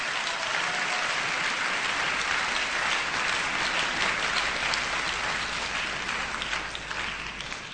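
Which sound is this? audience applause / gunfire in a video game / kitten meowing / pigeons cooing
audience applause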